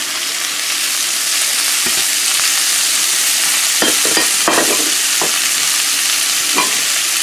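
Zucchini and garlic sizzle loudly and steadily in a hot skillet, a bright hiss throughout with several sharp pops and scraping stirs near the middle.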